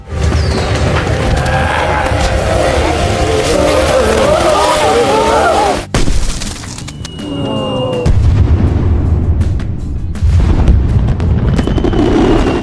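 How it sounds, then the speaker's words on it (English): Loud crackling bursts and booms of fireworks going off, with a dense roar, a brief pause, then more popping and rumbling explosions. "The fire spread to more fireworks, lighting up the night sky."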